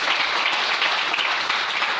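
A church congregation applauding the Lord, dense and lively clapping from many hands held at an even level throughout.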